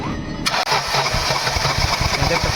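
Honda Amaze petrol engine cranking on its starter motor with one spark plug removed, a steady rhythmic churning that begins abruptly and continues close and loud without catching.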